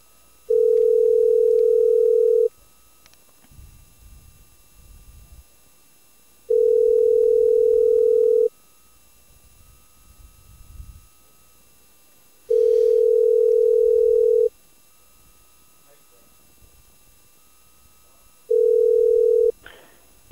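Telephone line tone while calling the National Park Service headquarters: a steady two-second beep repeated four times with short gaps of quiet line noise between, loud and alone.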